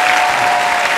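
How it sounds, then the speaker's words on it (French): Steady, dense applause from a comedy club audience, loud and continuous throughout with no break or voices over it. "Et je pense que ça s'applaudit."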